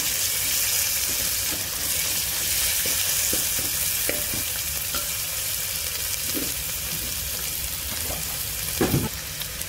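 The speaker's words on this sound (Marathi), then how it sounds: "तर हे मी अद्रक, कोथिंबीर, लसूण चं वाटण आहे हे, ते पण आपण असं परतून घेऊया छान" Ginger, coriander and garlic paste frying in a pan for masale bhat, a constant close sizzle broken by occasional soft stirring taps and scrapes.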